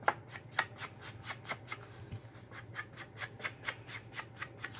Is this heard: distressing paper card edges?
yes